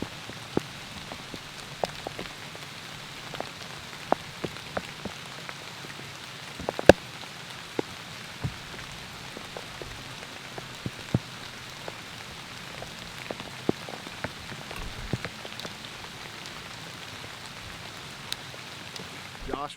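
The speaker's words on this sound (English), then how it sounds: "it's starting to drizzle rain" Light drizzle patters steadily from a hunting stand in Alabama woods, scattered drops ticking on nearby surfaces over a soft continuous hiss, with no talking.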